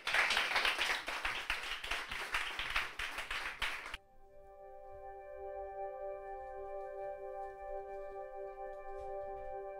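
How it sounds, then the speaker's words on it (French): An audience at an intimate concert applauds a singer with dense, close clapping for about four seconds, which stops abruptly and gives way to steady sustained musical tones. "Je vous demande de l'applaudir très fort, s'il vous plaît."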